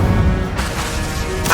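The Incendio fire spell in the game Hogwarts Legacy bursts out as a loud, dense whoosh of flame, followed by a second sharp flare of sound over a steady game background.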